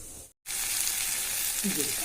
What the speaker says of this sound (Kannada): ಈಗ ಒಗ್ಗರಣೆ ಹಾಕೋಣ